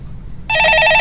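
A telephone begins ringing abruptly after a quiet moment on a Korean stock market call-in broadcast, a loud, close electronic bell trill sustained to the end with no talk over it.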